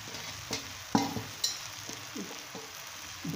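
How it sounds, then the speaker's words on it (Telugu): Puffed rice uggani being stirred in a pan with a ladle, giving scattered scraping strokes and soft sizzling at a near, moderate level, with no talk. "పెరడుతో బాగా కలుపుకొనవలెను."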